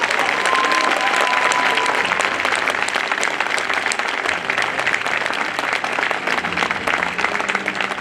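Audience applause fills an enrolment meeting of the Bar Council of Delhi, a dense, steady clapping from a large crowd that carries on without a break for about eight seconds.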